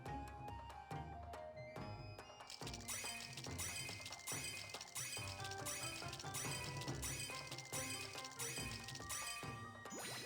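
A standard gacha roll animation in the Japanese mobile game Monster Strike plays, with rhythmic musical hits, glassy shattering crashes and bright clinks and jingles in quick succession, loud and continuous without talk.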